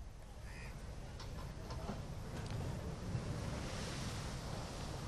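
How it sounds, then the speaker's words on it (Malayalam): Rough, storm-driven sea surging against the Chellanam coast at Kochi during Cyclone Vayu, a steady broadband roar with gusty wind buffeting the microphone and no voices. "പക്ഷേ ശക്തമായ കടലാക്രമണമാണ് കൊച്ചിയുടെ തീരമേഖലയിൽ ഉണ്ടായിരിക്കുന്നത്."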